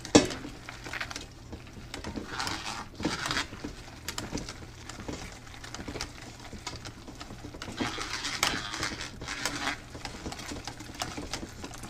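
Apples cranked through a hand food mill for applesauce, a steady grinding and rattling churn with repeated squeaky strokes, close and continuous without talk.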